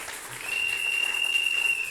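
A church congregation applauding makes a dense, steady wash of clapping for about two seconds, with a thin, sustained whistle-like tone running through the middle.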